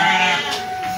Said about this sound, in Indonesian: Sami, domba Garut sadayana.